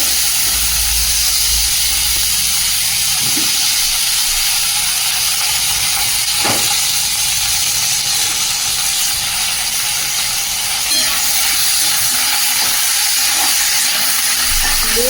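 Capsicum and other vegetables frying in a pan on the stove for fried rice, giving a steady, close broadband hiss that runs throughout with a few faint clicks and knocks.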